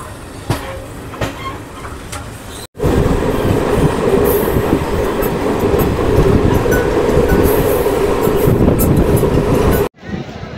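A train pulls into Banihal railway station in Jammu and Kashmir, a loud, close rumble of wheels and carriages that rolls on for several seconds after quieter surroundings, then cuts off.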